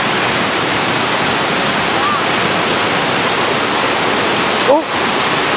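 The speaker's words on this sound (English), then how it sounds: "There's the waterfall." A waterfall in Jamaica roars in a steady, full wash of rushing water, loud and continuous, with a brief faint chirp and a short thump near the end.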